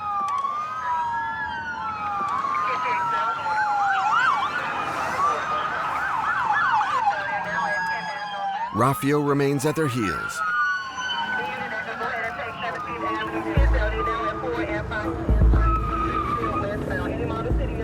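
Wailing police sirens from a line of police cars chasing a fugitive car through Miami rise and fall continuously, several overlapping, with someone talking over them and a brief harsh burst of road noise midway.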